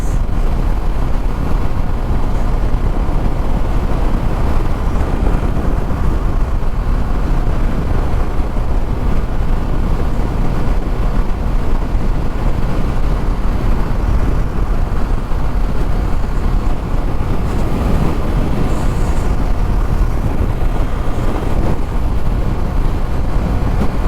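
Hero Xtreme 125R motorcycle cruising on a highway, with a steady loud roar of engine and rushing wind buffeting the microphone throughout and no voices heard.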